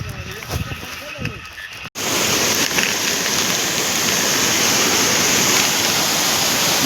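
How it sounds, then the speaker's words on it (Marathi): Heavy water rushes down a rain-swollen stream at night, a dense steady roar filling everything after a brief stretch of nearby talk and handling noise at the start. "झुऱ्याला मरणाचा पाणी आहे बघा"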